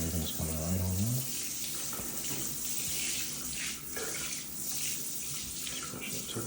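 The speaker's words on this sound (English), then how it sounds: "Then we'll just use our sprayer to do this and get it right down the drain." Water from a sprayer rinsing a tile floor and running down into a drain during a deep clean, a steady continuous hiss and splash close by, with a brief low hum at the start.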